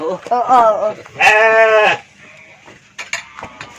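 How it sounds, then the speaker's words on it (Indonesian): Sheep bleating inside a pen, a few wavering calls with one long, loud bleat in the middle, close by, with people talking around them. "Tak domba nu gandeng mah."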